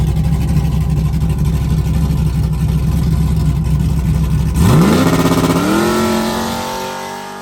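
A Chevrolet Trailblazer SS with a new torque converter holds steady on the trans brake near 3,900 rpm, then launches. The engine note climbs sharply toward about 5,200 rpm and fades as the truck pulls away, loud and close.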